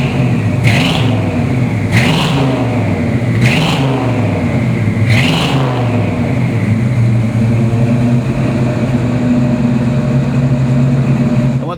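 A 1967 Ford Mustang GT350 convertible's fuel-injected engine runs on a crisp morning, loud and close, with four quick revs in the first half before settling into a steady idle.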